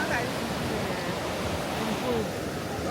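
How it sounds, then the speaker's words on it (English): Ocean waves wash onto the beach at Budva, Montenegro, a loud steady rush of surf close at hand filling the whole moment without pause. "There's a lot of waves."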